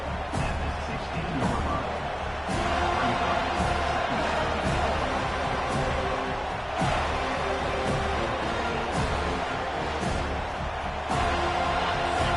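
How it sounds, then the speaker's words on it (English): Football stadium crowd at an Oregon vs FSU game cheering for the defense during a red-zone stand, a broad sustained roar filling the space with occasional sharper bursts. "The crowd getting behind this defense as they try to get a stop in the red zone"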